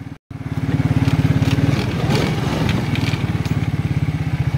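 A 1992 Yamaha Quadrunner 300 ATV engine runs after months of sitting, a loud, close, rapidly pulsing putter that starts after a brief gap and holds steady with slight load changes.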